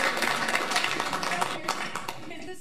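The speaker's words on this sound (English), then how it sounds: "Round of applause." A city council meeting audience applauds in a group, a dense wash of clapping that continues steadily and tapers off at the end, with voices mixed in.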